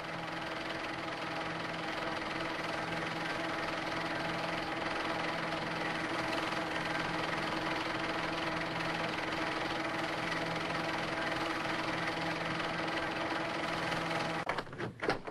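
Vickers Wellington bomber engines droning steadily during a low pass, a continuous loud throbbing hum with steady tones that holds unbroken before fading at the end.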